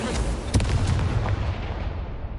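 Incendio fire spell cast in the video game Hogwarts Legacy, a dense roaring whoosh of flame with booming bursts, loud and close, sustained across the short moment before trailing off.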